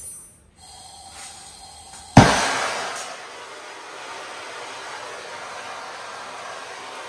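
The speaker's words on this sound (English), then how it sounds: "When you're heating up that copper pipe" A torch flame heats copper pipe for brazing with silver rod, a faint hiss giving way to a sudden loud whoosh as it flares, then a steady close roar that slowly settles.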